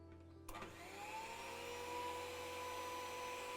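An electric hand mixer switches on sharply after a short quiet moment and runs at a steady, high whine, beating batter for a strawberry tea cake, loud and close with no talking.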